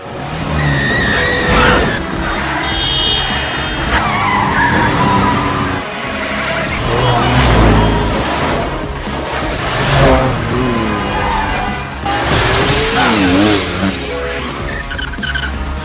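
A city car chase in an action film, with loud tire squeals and skids, revving engines and smashing crash impacts that follow each other in quick succession without pause.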